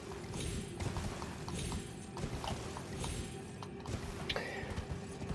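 Horse galloping in the video game Elden Ring, a steady run of clip-clop hoofbeats over continuous game ambience, fairly close and sustained for the whole stretch.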